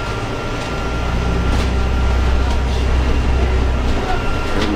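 Inside a Stagecoach Enviro400 bus on a Volvo chassis with a ZF gearbox, departing Woolwich: a steady, loud low-frequency engine drone and cabin rumble with constant road noise throughout.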